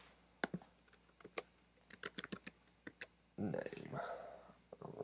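Typing an Excel formula on a computer keyboard: close, irregular key clicks in quick bursts, ending in a denser run of clatter.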